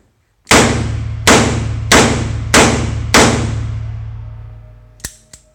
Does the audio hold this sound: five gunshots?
yes